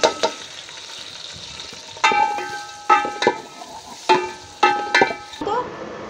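Onions frying in ghee for aloo chicken, with bursts of sizzling and sharp metallic scrapes and knocks as a spoon stirs the pan in an uneven rhythm.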